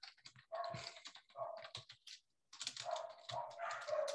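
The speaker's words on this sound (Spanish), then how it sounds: "No sé si se escucha ladrar el perro que está allá" A dog barks in a quick run of yaps, pauses briefly, then barks again in a steady series, fairly clear and unaccompanied by speech.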